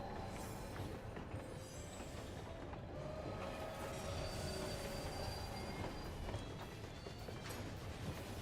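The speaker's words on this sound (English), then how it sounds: "I mean, it's loud because it's a train." A train rolling steadily in Final Fantasy XIV, a loud continuous rumble of wheels on rails with squealing metallic tones and clanking mechanisms running throughout.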